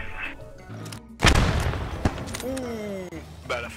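A heavy boom of a grenade going off in Post Scriptum, followed by scattered rifle shots and a lingering rumble, with a voice speaking over the tail.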